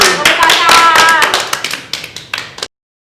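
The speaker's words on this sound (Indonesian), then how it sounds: "Tepuk tangan." Sunday school children clap their hands in a lively burst mixed with shouting voices, the claps thinning into a few scattered slaps before stopping abruptly.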